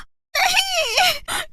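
A woman lets out a loud, sustained shriek of shock with a rising then falling pitch, followed by a second shorter cry after a brief pause.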